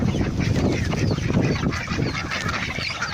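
Ducks and chickens kept together in one coop on a farm in Al Baha, Saudi Arabia, make a loud, dense, continuous clamour of overlapping quacks and calls with no pauses.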